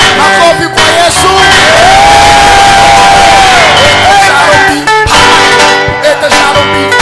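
A church congregation at a new year sermon cheers, whoops and shouts loudly and continuously, a dense wall of crowd noise with voices rising above it and brief dips near the end.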